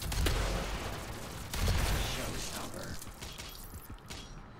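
Bursts of gunfire from the Doom Beta game crack out in a rapid cluster near the start and again midway, loud and close, then thin out toward the end.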